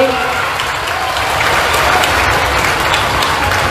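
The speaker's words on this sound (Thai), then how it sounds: "ขอเสียงปรบมือให้คู่ค้า ของจุลีกิจ ทุกท่านทุกบริษัท" An audience claps loudly and steadily at a company's 50th-anniversary and grand-opening ceremony, a dense, close round of applause lasting several seconds.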